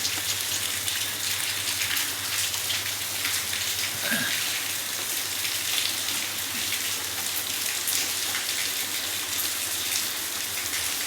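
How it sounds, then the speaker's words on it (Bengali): Steady rain pours outside a resort in Bakkhali in a dense, continuous hiss of drops hitting surfaces, with no talking. "বাইরে সুন্দর বৃষ্টি পড়ছে, উপভোগ করছি।"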